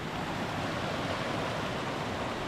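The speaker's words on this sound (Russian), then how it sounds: "Ну вот, уже бурная река." A turbulent mountain river in the Altai rushes in a dense, continuous roar, close and steady with no pauses and no voices.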